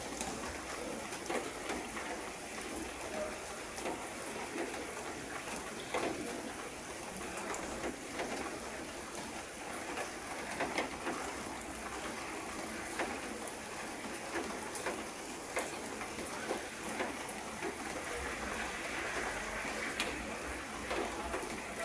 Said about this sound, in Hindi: अभी आप देख सकते हो बाहर बारिश हो रही है